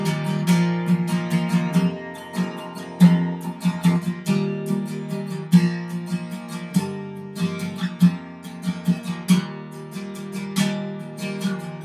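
An acoluster of guitar chords and picked notes plays through the chorus of a song with a steady strummed rhythm. It is close and clear, with accented strums every second or so and no talking.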